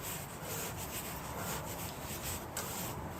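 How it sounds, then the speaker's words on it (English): A hand tubing cutter turns around copper pipe, giving a steady close rasping scrape with repeated grinding strokes and no talking, about three seconds long. "So I'll cut the tubing."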